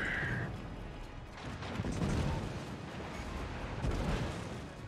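Naval guns of the Swedish tier IX destroyer HSwMS Östergötland firing in World of Warships, a dense rumbling barrage of booms rolling continuously over several seconds, loud and close.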